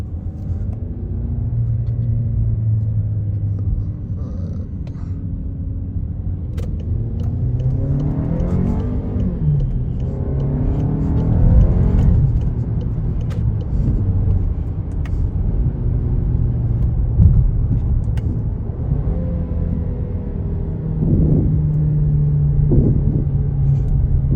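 A Volkswagen Arteon accelerating hard in first gear with paddle shifters, engine revving up loudly with rising pitch, dropping at shifts, then pulling again in a sustained close roar.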